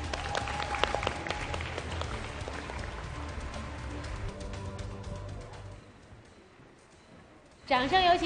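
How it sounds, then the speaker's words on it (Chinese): Studio audience at a televised dating show applauds in a steady wash of clapping that tapers away, before a loud burst of other sound rises at the end. "鼓掌啊！"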